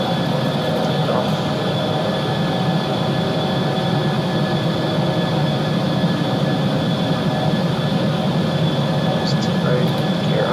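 Simulated Embraer E190 jet engines in X-Plane build a steady, loud broadband roar with a faint high whine during the takeoff roll down the runway, continuous and unbroken throughout, with an announcer's voice talking over the engine noise.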